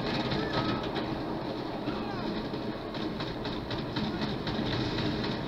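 A train in GTA 5 Online rolls past with a steady, loud rumble and rhythmic clatter of wheels that fills the scene without a break.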